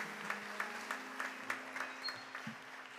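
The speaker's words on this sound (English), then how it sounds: "Can we clap our hands one more time and give God praise today?" A church congregation at a memorial service claps in praise, producing faint, quick rhythmic hand claps that sound distant and soft.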